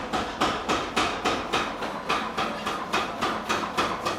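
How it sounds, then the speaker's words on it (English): A power hammer machine pounds metal into spoons at a workshop with a small furnace, about ten sharp, evenly spaced metallic strikes in a steady rhythm, loud and close, with no talking. "They're shaping the metal with like a hammer machine."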